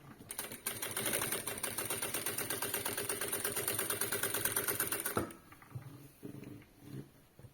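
A sewing machine stitches a quilt in a rapid, steady mechanical rattle for about five seconds, then stops, leaving a few soft handling clicks and rustles of the fabric.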